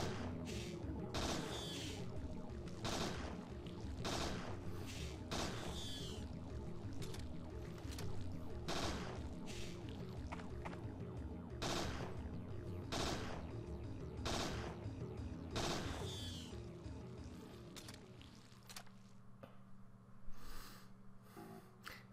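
Repeated gunshots from the player's weapon in the video game Parasite Eve 2, fired in an uneven volley of bursts over a dense, rumbling game soundtrack. The shooting thins out toward the end.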